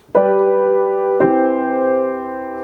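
Two sustained piano chords, the second struck about a second after the first and left ringing to fade, with no talking.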